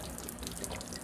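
Water drains from an RV water heater tank in a continuous splashing, trickling flow, close and fairly quiet, with no talk over it.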